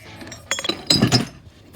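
Old glass bottles, one marked Vulcan Glass Works from about 1920, clink against each other during unboxing, with a few sharp knocks and rattles in two short clusters and quiet handling between.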